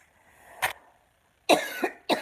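One person coughs, a single short residual smoke cough followed after a pause by a harsher double cough and another starting at the end, close and alone.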